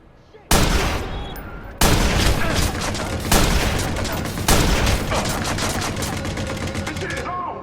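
Sniper gunfire in the video game Watch Dogs: four loud, sharp shots about a second or more apart, each leaving a sustained, reverberant boom under faint voices.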